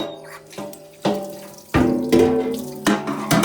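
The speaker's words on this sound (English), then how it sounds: "Let's just rinse it off." Tap water splashes into a kitchen sink while it is rinsed, coming in several uneven surges that grow louder toward the end, close and without talk.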